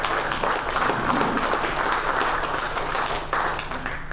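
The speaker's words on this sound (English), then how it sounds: "Give the Lord a hand clap." A church congregation claps and applauds during a Sunday Advent service, a steady, moderately loud spread of many hands clapping together throughout with no single claps standing out.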